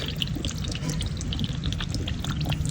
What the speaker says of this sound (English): Just water coming out of there